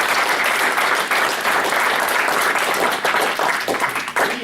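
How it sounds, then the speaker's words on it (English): A large audience gives a loud, continuous round of applause at an event about a music group, dense clapping filling the whole stretch without pause. "he deserves a big round of applause"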